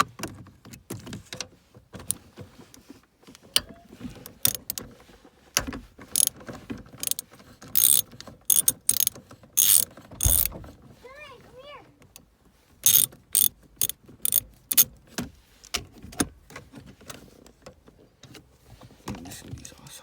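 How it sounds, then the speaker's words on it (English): Ratchet wrench loosening 13mm bolts on an 8th-generation Honda Civic Si, clicking in short irregular bursts between louder clanks, with a voice speaking intermittently. "Just loosen these 13mm also."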